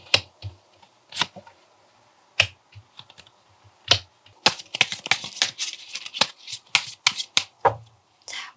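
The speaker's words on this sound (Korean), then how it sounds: "우리 여러분들의 조언 카드 한번 뽑아보도록 할게요" Tarot cards shuffled and drawn by hand, giving quick crisp riffling bursts and sharp slaps spread across the stretch, close and fairly quiet with no talk.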